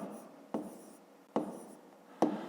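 A pen or pencil writes numbers on paper while a fifth-grade math exercise is worked through, making soft, close scratching strokes broken by three sharp taps as the point lands.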